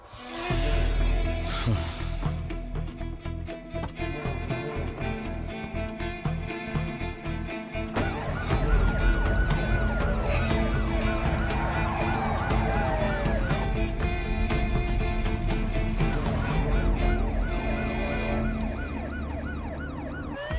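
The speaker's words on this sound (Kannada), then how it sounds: "ಒಂದು ಆಂಬ್ಯುಲೆನ್ಸ್ ತುಂಬಾ ಹೊತ್ತಿಂದ ಓಡಾಡ್ತಿದೆ" An ambulance siren wails steadily through a dense, loud mix of music and city noise, with rising and falling tones sweeping across the middle of the scene.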